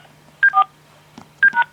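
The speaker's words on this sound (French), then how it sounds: "Merci de taper sur votre clavier téléphonique votre numéro de département," Telephone keypad DTMF tones entering a department number on an automated phone line, two pairs of short close beeps about a second apart, with a faint click between them over a low steady hum.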